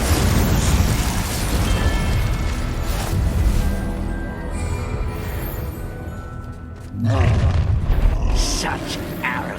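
Confringo and Incendio spells blasting in Hogwarts Legacy combat: a dense run of booming fiery explosions layered over game action and voices, with a fresh loud burst near the end.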